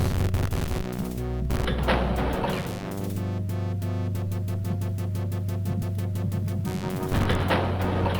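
Custom weapon gunfire in Wolf Extra 3, a steady stream of rapid regular shots over a droning game soundtrack, with heavier bursts near the start and end.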